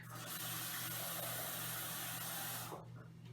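Water pours steadily into a glass mason jar, measuring seven ounces for a baby bottle, in a continuous close stream that stops abruptly near the end.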